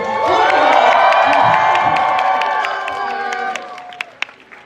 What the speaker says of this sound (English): So please give him a round of applause while Beanie is here at KCON 2024.